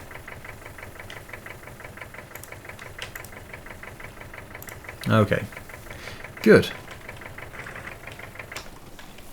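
A Massey Ferguson 20 tractor engine idles in a farming game, a steady low knocking chug running throughout, with a couple of brief voice interjections over it.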